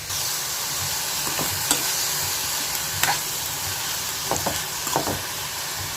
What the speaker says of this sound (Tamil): இப்போ அவரைக்காய் வெந்துட்டுருக்கு பாருங்கள்